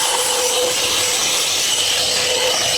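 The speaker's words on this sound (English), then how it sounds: "I'll actually take this, switch it around into blower mode, and I can blow from the inside out and try to get all that debris out of the coil" Shop vacuum switched to blower mode, blowing debris out of an air-conditioner condensing unit coil: a steady, loud, close rushing hiss of air with no breaks.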